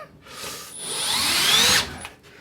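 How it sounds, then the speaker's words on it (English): A power drill bores into drywall, its whine rising in pitch over about a second before cutting off sharply, close and clear with no talking. "I'm just going to drill a hole, and I'll just put one right there."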